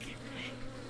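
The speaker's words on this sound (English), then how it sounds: "Oh, bees! Not the bees!" Swarm of angry bees in the Breath of the Wild video game, a steady close buzzing drone that continues without a break throughout.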